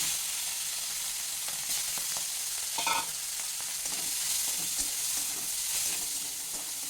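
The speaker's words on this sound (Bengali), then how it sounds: "এবার এই তেলের মধ্যে আমি চিংড়িটা দিয়ে হালকা করে একটু সাতলে নেবো" Prawns, salted and rubbed with turmeric, fry lightly in mustard oil for a Bengali giant taro dish, giving a steady broad sizzle with occasional stirring scrapes and no voices.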